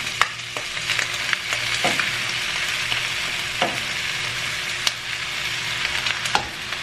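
Beans go into a frying pan of browned pork and sizzle steadily and loudly throughout, with a few sharp clicks and scrapes of stirring on top.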